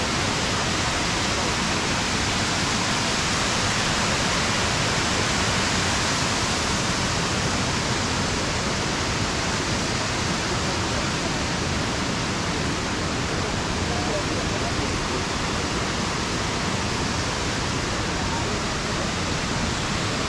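Steady roar of rushing water at the Kravice waterfalls in Herzegovina, a dense, constant wash of sound with no breaks across twenty seconds.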